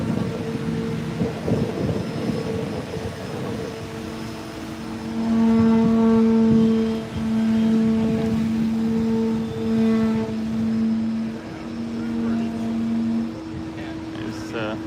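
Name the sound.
Chevy Beretta car driving past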